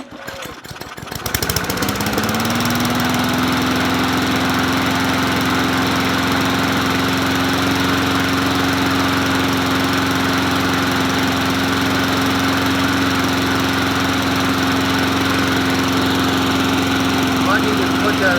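A Huskee 22-inch push lawn mower, worn with age, starts after a brief rattling pull and then runs at a steady loud drone close by, holding an even pitch throughout with a voice heard in the background.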